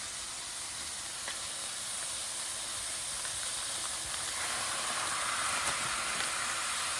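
Twenty ounces of ground pork hits a hot pan, giving a continuous even sizzle and hiss that holds steady throughout at moderate loudness.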